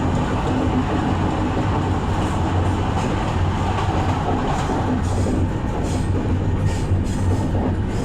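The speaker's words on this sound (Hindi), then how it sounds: "ये देखिए ओवरटेक कर रही है अपनी ट्रेन" Near Rourkela, the Gitanjali Express overtakes on an adjacent track with a loud, continuous rolling roar of wheels and carriages that holds steady for the whole stretch, with no talking.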